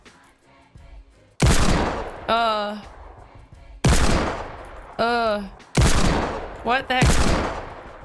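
Loud, close bursts of gunfire in Fortnite Battle Royale, several sharp blasts with decaying tails spread across the clip, interleaved with rising whistling game effects, while a player speaks briefly.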